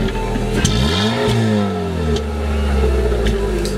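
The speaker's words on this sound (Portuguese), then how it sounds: "Agora a gente vai ver o ronco lá no fundo para ver se muda alguma coisa, galera." A Chevrolet Prisma 1.0 or 1.4 with a conical sport intake filter and original exhaust revving, the engine note climbing and falling through two strong throttle blips, loud and close.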